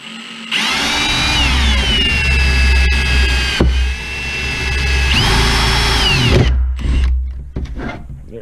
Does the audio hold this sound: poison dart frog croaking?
no